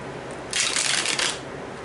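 A deck of playing cards is riffle-shuffled close up, a quick rapid flutter lasting under a second, then a short second burst, with quiet room tone around it.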